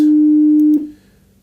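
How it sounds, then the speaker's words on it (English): A 302 hertz pure test tone holds steady and loud for under a second, then cuts off abruptly and leaves a brief fading tail. "So, this is 302 hertz, it is slightly different."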